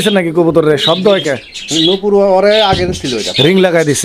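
A pair of Giribaz fancy pigeons at a farm coo and call close by in short repeated bursts, with someone talking over and between the calls.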